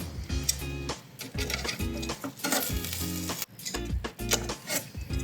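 Chicken wings being flipped in an air-fryer basket, with bursts of sizzling and clattering handling noise in irregular clusters close by, loud and without speech.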